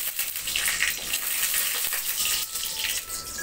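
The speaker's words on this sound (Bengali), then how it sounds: "দেখুন আমি এখানে এখন সামান্য তেল দিলাম, এখন এখানে আমি দুটো তেজপাতা দিয়ে দিচ্ছি" Two bay leaves dropped into a little hot oil in a home kitchen pan sizzle with a steady, bright crackling hiss that fills the moment without talk.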